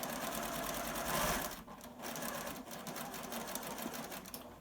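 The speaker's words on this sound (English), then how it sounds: "Lift and pivot, stitch 2 or 3 stitches across the elastic." A sewing machine runs steadily, stitching across elastic on a cloth face mask, with a fast even whir that briefly pauses before resuming, close and alone.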